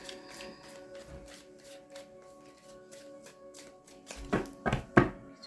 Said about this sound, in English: Get some more shuffles in